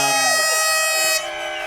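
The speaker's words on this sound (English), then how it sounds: "America found air horns." Air horns blare at a motocross event, several loud sustained blasts overlapping with a brief pitch dip, close and dominant with no talk.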